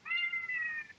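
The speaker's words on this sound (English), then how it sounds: "that's my cat behaving like a typical cat" Doodles, a pet cat, lets out a single soft, drawn-out meow, close by and fairly quiet, with nothing else around it.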